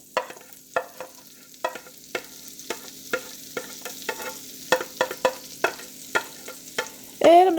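Red onions sautéing in a pan for a French omelette, with a steady soft sizzle and repeated sharp clinks and scrapes of a utensil stirring them, ending in a louder burst of sizzling.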